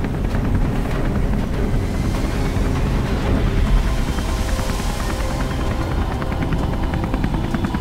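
Helicopter in the Beyond: Two Souls video game, a loud, steady rotor drone with chopping pulses, mixed with game noise and possible gunfire throughout.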